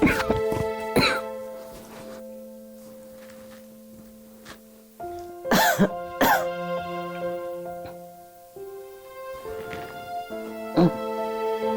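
Several coughs break out in short bursts amid a quiet room, with a steady tonal hum and some faint background sounds between them.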